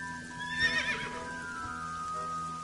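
A single horse whinnies in a PS4 video game, fairly quiet, rising and then trailing off over a steady, faint background hum.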